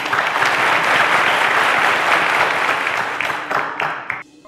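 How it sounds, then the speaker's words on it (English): Audience applause at the Cowbellpedia quiz show, loud and dense clapping from a crowd that holds for several seconds, then tapers into a few scattered claps. "A round of applause to them,"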